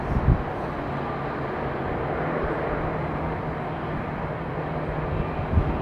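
A Qatar Airways Airbus A380 at London Heathrow gives a steady, broad jet roar with a low engine hum, continuous and fairly loud throughout, with no voices.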